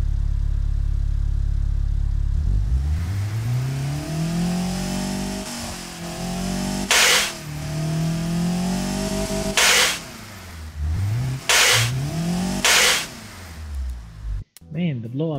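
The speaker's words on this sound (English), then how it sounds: "The engine now is running much better." A simulated Zaz Tavria 1.1L engine in the Automation car game revs up from a low drone, rising and falling pitch through several throttle blips with sharp loud blow-off bursts between them, close and dominant.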